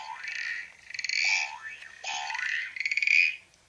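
Frog croaking from a children's sound book: two short bursts of bright, rising croaks, each followed by a rapid rattling trill, clear and close with nothing else around.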